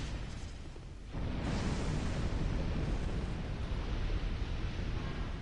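After a brief quieter moment, windows in Dark Souls 2 blow out all at once in a sudden burst that turns into a loud, sustained roar of debris.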